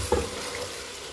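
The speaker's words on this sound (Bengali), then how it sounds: "মশলা কষাইতেছি" Spices frying in a pan for khichuri with tomato: a steady soft sizzle with a brief stir or scrape near the start, close and fairly quiet.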